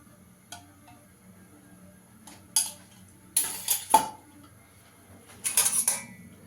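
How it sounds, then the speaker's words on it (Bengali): A wok is set down on a kitchen stove with several loud metallic clanks and scrapes in short bursts, separated by quiet pauses. "এখানে আমি কড়াইটা বসিয়ে দিয়েছি, তেল দিয়ে দেবো"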